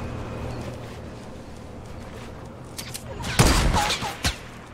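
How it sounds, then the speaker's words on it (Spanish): Gunfire in a competitive multiplayer shooter game: a quiet stretch, then a loud burst of rapid shots near the end with a final sharp crack. "Nos han disparado de izquierda"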